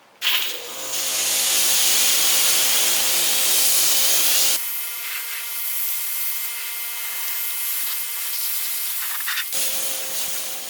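Karcher pressure washer spraying a quick rinse, a loud steady hiss of high-pressure water that runs continuously and shifts in tone as the nozzle moves, then cuts off briefly near the end.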